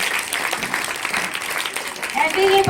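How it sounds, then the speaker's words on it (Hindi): An audience claps for a young girl at a Mother's Day celebration at a Hanuman temple, a dense burst of applause lasting a few seconds over some background voices. "तो उस बच्ची के लिए जोरदार क्लैपिंग"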